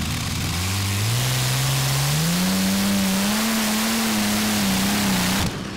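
A pulling tractor fitted with a front charger roars through a qualifying run at the 2015 Eurocup Tractor Pulling in Brande, Denmark, its engine pitch climbing steadily and holding loud and close before cutting off abruptly.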